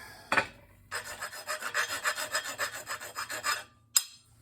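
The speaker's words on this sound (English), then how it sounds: "Just a light deburr with the file here." Hand file deburring a metal part for a rolling mill twisting attachment: a quick scrape, then a steady series of about a dozen rhythmic rasping strokes up close, ending with a single sharp clink.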